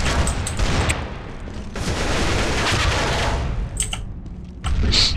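A grenade detonates in CS:GO as a broad, roaring blast that swells and lingers for a couple of seconds. It is flanked by sharp gunfire cracks before and after.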